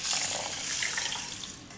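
A cup of water is poured over dry rice in a DCIGNA mini rice cooker, a steady, close splashing trickle that lasts the whole moment with no speech.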